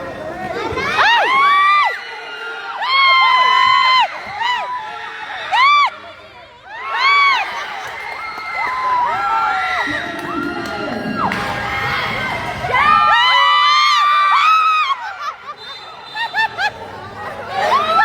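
Children shouting and cheering in a loud, excited crowd during a team game, with repeated high-pitched screams and whoops in bursts, close and overlapping with babble.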